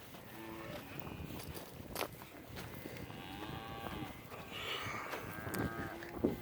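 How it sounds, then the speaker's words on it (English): Cattle in pens, a bull and calves, with several moos and drawn-out bellows at mid distance, mixed with shuffling hooves and rustling, quiet overall. "I got a bull in here that I sorted out of the pasture."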